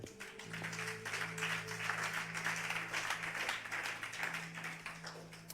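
A congregation applauds for the Lord with scattered, quiet clapping over a sustained organ-like tone, the hand claps soft and somewhat distant, continuing at an even pace.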